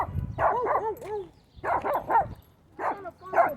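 Six-month-old Shih Tzu puppy giving short bursts of high yappy barks, three clusters of two or three yips each, close and fairly loud with brief pauses between.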